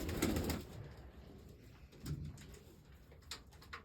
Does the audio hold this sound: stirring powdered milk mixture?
no